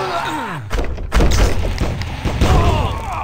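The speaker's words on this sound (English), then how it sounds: "so now I got two ballistas shooting" Ballistas fire in the tower-defense game Cursed Treasure 2, giving a few heavy, booming thuds that land over a steady bed of game sound and music, loud and close.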